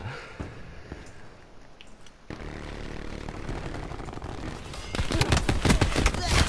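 Call of Duty Black Ops 4 gunfire: after a quieter stretch, the rattle builds and a rapid burst of shots erupts near the end, loud and close against a rumbling game backdrop while a player talks.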